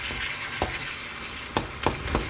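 Ground beef sizzles steadily in a pan, a soft continuous crackle broken by a few sharper scraping stirs, close and without talk.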